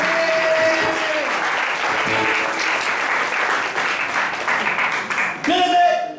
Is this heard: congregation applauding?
yes